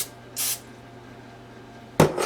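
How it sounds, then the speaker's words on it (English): Two short bursts of cooking spray hiss onto a muffin tin, separated by a quiet pause, the second one a bit louder. "put a little cooking spray"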